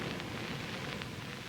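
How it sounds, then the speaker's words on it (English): Steady rain hisses in an old movie, The Mad Monster, a constant wash of noise with faint scattered patters and no voices. "Oh, rain."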